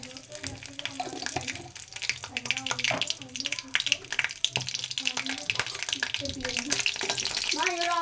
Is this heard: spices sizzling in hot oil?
yes